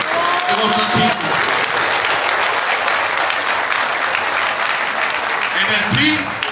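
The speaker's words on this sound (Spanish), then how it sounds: "Un fuerte aplauso para todos los priistas aquí de Cuauhtlancingo." A crowd at a PRI political party event in Cuauhtlancingo, Puebla, breaks into loud, sustained applause and cheering, with a voice over a microphone audible at the start and end.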